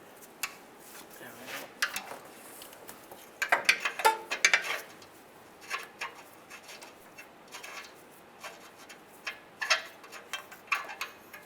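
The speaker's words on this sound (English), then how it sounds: "So use a 7/8 wrench or an O2 sensor socket." A 7/8 wrench or socket works loose an O2 sensor on a 2007-2013 Chevrolet Silverado, giving scattered metallic clicks, ratchet ticks and taps in irregular bursts, fairly faint and close.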